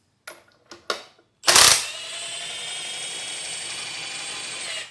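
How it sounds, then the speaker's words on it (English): Impact wrench with a 7/8 socket driving the screw of a Black Widow scissor lift: a few short clicks, then a loud burst and a steady, sustained whirring drone that runs on alone to the end. "thing that makes this a whole lot easier is an impact with a 7/8 socket on the end"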